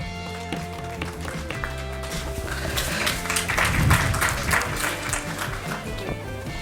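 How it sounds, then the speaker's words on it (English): An audience at a medical awards event in India applauds, with clapping building into a dense, loud round mid-clip over background music before easing off. "Can we have a round of applause?"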